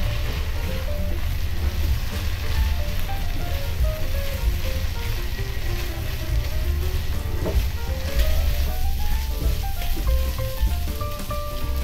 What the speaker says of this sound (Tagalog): Sumunod naman nating ilagay yung hipon.